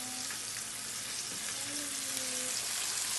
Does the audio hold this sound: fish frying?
yes